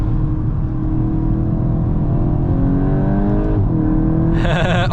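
A 2025 MK8.5 VW Golf GTI Clubsport with its 296 hp engine accelerates hard, its loud, steady drone rising in pitch through the revs toward the top end, dropping briefly at a gear change, then climbing again, heard from inside.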